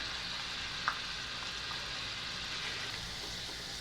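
Eight to ten garlic cloves frying in a pan for Solapur-style peanut chutney, a soft, steady hiss of oil with one faint tap partway through.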